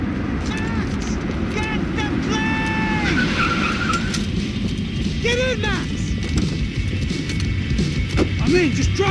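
Car driving with tire skids in the video game Max Payne 3, engine and squealing tires loud and continuous over gunfire-like bursts, with voices shouting over the action.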